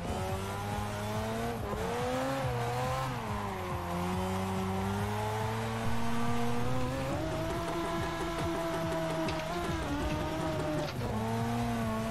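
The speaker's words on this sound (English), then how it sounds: "I hate that limiter noise." A racing-game car engine holds high revs against the rev limiter, its steady buzzing tone wavering up and down and stuttering repeatedly, loud and continuous throughout.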